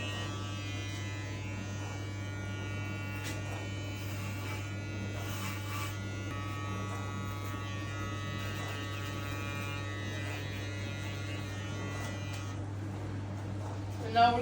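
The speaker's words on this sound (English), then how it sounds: "with our Stylecraft Instincts trimmer." A Stylecraft Instinct hair trimmer buzzes steadily and close throughout a barbershop haircut, a constant electric drone with slight variation as it cuts, while someone talks over it.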